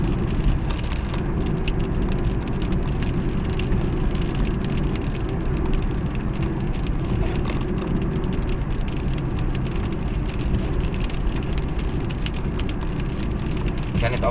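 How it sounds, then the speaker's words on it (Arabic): Heavy rain drumming steadily on a car and the highway while driving between the desert road and agricultural road near Alexandria, a dense continuous wash mixed with road and engine rumble, loud and unbroken throughout. "الامطار بتنزل كتل، يعني بتنزل عريضة"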